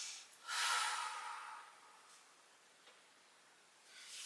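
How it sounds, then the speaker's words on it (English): Deep breathing during a yoga session: one long, airy breath close to the microphone, rising and then slowly fading, with another breath beginning at the end, quiet and alone, with no talk. "a little bit of deep breathing"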